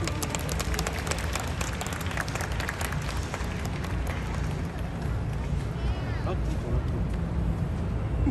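Applause from an outdoor crowd at the Hakata Dontaku festival greets a performing group from Dazaifu, a spread of scattered clapping mixed with crowd noise and speech.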